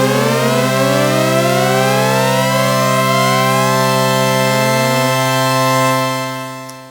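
Sustained tones from a Moog Memorymoog analog synthesizer in mono glide mode slide smoothly in pitch, several voices gliding up and down across each other before fading out, loud and alone.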